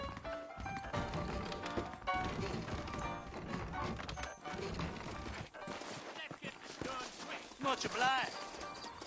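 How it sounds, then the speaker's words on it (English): Saddled horses clip-clop along in Red Dead Redemption, with a rhythmic hoof patter layered under game dialogue, music and ambience, with a brief spoken line in the middle. "I got the horses saddled up and ready out front."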